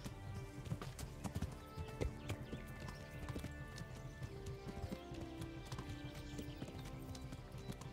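Horse hooves clip-clop at a steady trotting rhythm in the video game Kingdom Come: Deliverance, quiet and continuous, with busy background game sounds and no talking.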